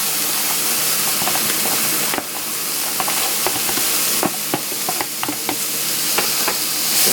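Vegetables dropped into a hot pan for Jamaican-style vegan curry yellow rice sizzle loudly and steadily, with repeated stirring clicks and scrapes of a utensil against the pan close by.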